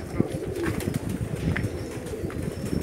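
Dense cooing of hundreds of pigeons in a large loft in Jeddah, Saudi Arabia, a continuous low murmur with occasional wing flutters, fairly close and steady throughout.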